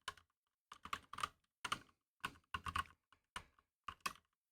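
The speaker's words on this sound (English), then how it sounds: "Of course, we want to hear what these keys sound like." Keys clack in quick irregular bursts on a Redragon K556 DEVARAJAS mechanical keyboard with red linear switches, recorded close and otherwise quiet.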